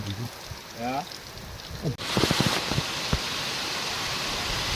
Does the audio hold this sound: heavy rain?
yes